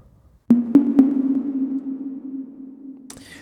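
A slap house synth note strikes three quick times, then rings out in a long, smooth Valhalla Vintage Verb reverb tail that slowly fades. A soft noisy rustle comes at the end.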